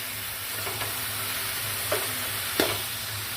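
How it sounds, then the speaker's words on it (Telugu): Cabbage and moong dal curry hissing and sizzling steadily in a pan, with a few distinct scraping stirs of a spoon, close and moderately loud, no voices. "ఇప్పుడు ఒకసారి బాగా కలుపుకుందాం"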